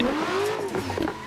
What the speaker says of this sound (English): These cars are more happy to be drifting in third.